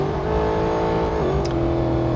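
Aston Martin Vantage engine in the Real Racing 3 racing game, a steady, close, low purring drone with even revs throughout.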